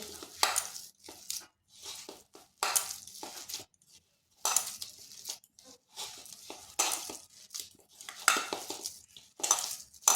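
Bread and onion being mixed by hand in a bowl, soft irregular squishing and clinking bursts close by, with short pauses between strokes.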